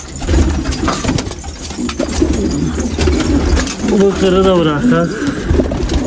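Pigeons coo in steady, throaty rolls close by, with brief wing flaps, while people talk nearby over a constant background hum.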